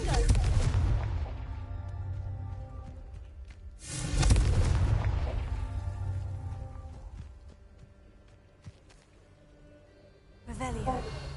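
Confringo blasting spell detonating in the game Hogwarts Legacy: two heavy booming blasts several seconds apart, each with a long rumbling decay, and a third burst starting near the end, loud and close.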